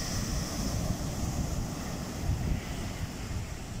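Sea waves wash onto a beach during surfcasting on a fine May day, a continuous broad surf rush mixed with wind noise on the microphone, steady and fairly close.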